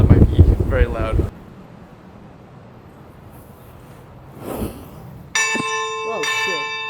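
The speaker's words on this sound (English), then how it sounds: "the bells will chime up here too" Talking and wind noise give way to quiet, then loud church bells suddenly ring out close by near the end, in Iceland.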